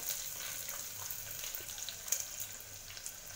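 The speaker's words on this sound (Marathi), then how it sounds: "4 ते 5 सेकंद या मोठ्या आचेवर परतून घ्यायचं।" Onion, tomato, potato, capsicum, carrot and a dried red chilli sautéing in a pan on high flame give a faint, steady sizzling hiss with a few soft crackles throughout.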